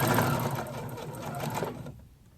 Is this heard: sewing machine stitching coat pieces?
yes